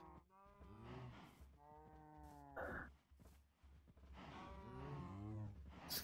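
Cows in Minecraft moo several times in long, drawn-out low calls, near and fairly clear, with short pauses between them.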